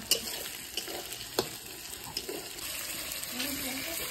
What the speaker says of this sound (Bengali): তো পেঁয়াজগুলো ভাজছি এখন